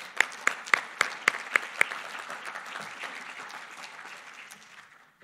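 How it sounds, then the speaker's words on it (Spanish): An audience at an agricultural economics seminar applauds a speaker, a few sharp claps ringing out near and loud at first, then settling into a softer, thinning patter that fades away by the end. "Un fuerte aplauso para ella."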